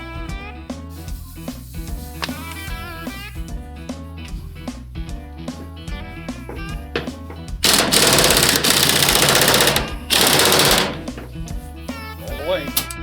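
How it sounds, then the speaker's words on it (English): Impact wrench tightening suspension bolts on a Legends-suspension motorcycle, two loud sustained bursts of rapid hammering after a stretch of quieter mechanical noise, with talk around it. "that impact seems to be more than good enough"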